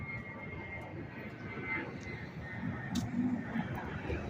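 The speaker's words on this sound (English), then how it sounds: "It's another jet taking off from the airport." A jet airliner takes off from the Las Vegas airport near the Strip, a distant, steady engine roar that builds slightly, with people talking nearby.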